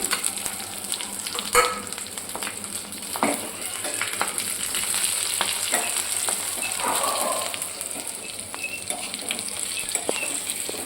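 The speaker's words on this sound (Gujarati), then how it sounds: "અડધી ચમચી આપણે જીરું નાખીશું અને ગેસ આપણે ધીમો કરી લઈશું સાવ અને આપણે હવે મરચાં આ રીતે આપણે મરચાં નાખી દઈશું" Cumin seeds and green chilies fry in oil over a low gas flame for a pointed gourd dish, giving a steady close sizzle broken by light spoon clinks and small pops.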